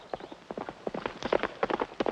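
A horse dragging its fallen rider, with hooves clattering in a quick, uneven gallop rhythm over about two seconds, fairly close and loud.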